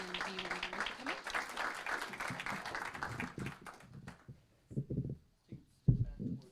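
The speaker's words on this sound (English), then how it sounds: "we would like to give her one more round of applause" Applause for an honoree at a city council meeting, a steady crowd clapping for about three seconds that thins out, followed by murmuring and scattered sounds as people gather.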